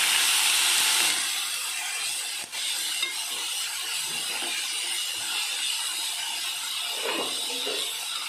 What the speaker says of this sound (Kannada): ಇದನ್ನು ಇವಾಗ ಚೆನ್ನಾಗಿ ಹುರ್ಕೊಳ್ಳೋಣ.